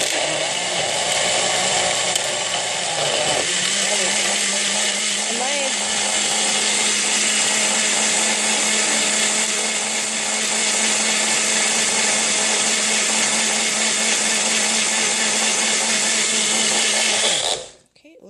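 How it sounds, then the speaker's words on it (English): A blender runs steadily at high speed, whirring loud and continuous, as it purees homemade ketchup made with vinegar and brown sugar, then cuts off at the end. "So make sure that's all blended up nice."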